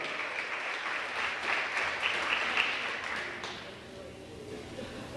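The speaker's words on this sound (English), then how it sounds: "How about another round of applause for number 7, Coy Orozco." A crowd applauds at a college volleyball match in a gymnasium, a dense wash of clapping that carries for about three seconds and then thins out, while an announcer talks over it on the public address.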